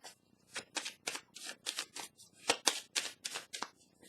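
Tarot cards being shuffled by hand, a close, quiet run of about a dozen crisp riffling flicks in a steady rhythm, with no voice over them.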